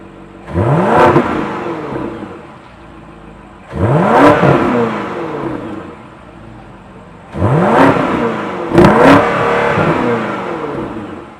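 2025 BMW X7 M60i with a 4.4-liter twin-turbo V8 and quad exhaust, revved hard three times in succession, each sharp rising roar falling back to a rumbling idle, loud and close, no talking.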